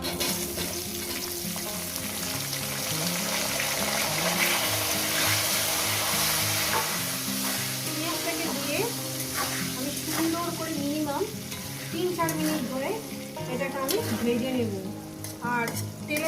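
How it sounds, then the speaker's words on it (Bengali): Onions fry in oil with whole spices such as cardamom, cinnamon and cumin, giving a loud continuous sizzle with bursts of spattering and occasional stirring as background music plays throughout. "পেঁয়াজটা আমার সুন্দর করে ভাজা হয়ে গেছে"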